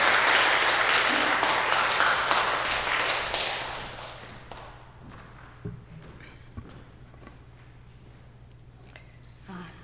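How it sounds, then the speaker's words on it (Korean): Church congregation applauding a guest pastor, a dense wash of clapping that starts loud and fades over about four seconds, followed by scattered taps, footsteps and quiet room noise. "큰 박수 한번 찬양하면서 맞이하겠습니다."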